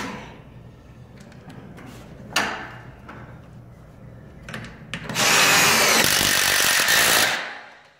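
A power drill driving screws during a garage door installation, with short whirring bursts and clatter, then a longer loud, sustained drilling run near the end.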